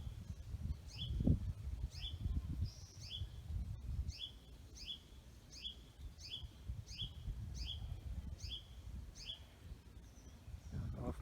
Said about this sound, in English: You can hear Hutton's vireo calling.